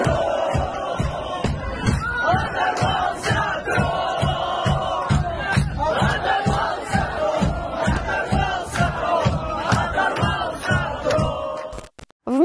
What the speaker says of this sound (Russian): вечеринка в честь смерти Навального, где толпа скандирует «Тромб, Тромб».